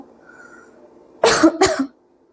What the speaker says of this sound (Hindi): खांसी भी जरूरी है